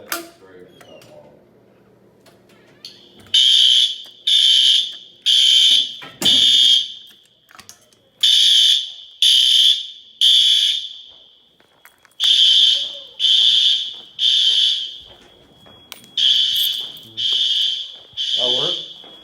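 A Silent Knight 5820XL fire alarm bell rings during a test in loud, repeated bursts of clanging, each roughly a second long, with short gaps between them and faint talk at the start.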